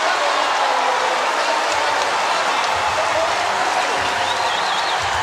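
Crowd cheering and applauding in an arena at a women's college volleyball match, a broad continuous roar with whistles, sustained throughout.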